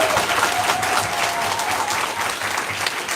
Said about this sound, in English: Can we please give another round of applause for our entire panel here?